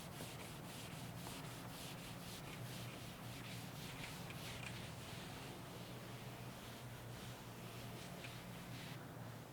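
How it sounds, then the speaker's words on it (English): A duster wipes a classroom board clean with continuous close rubbing strokes, steady and moderately loud, with no voices. "what I need is a duster so that I can prepare board for you"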